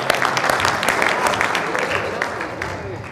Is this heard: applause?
yes